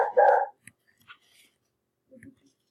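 A single dog bark right at the start, fairly close, followed by quiet with faint small noises and a soft murmur of voice.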